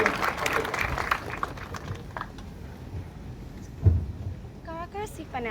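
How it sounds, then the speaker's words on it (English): An audience claps for faculty members at a research methodology talk, steady applause that fades out over a few seconds, followed by a voice speaking near the end. "please give a round of applause to our faculties who made this possible"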